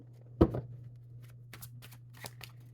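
Tarot cards shuffled by hand, a sharp riffle burst near the start followed by softer, faint card flicks and slides, quiet and close, with a low steady hum underneath.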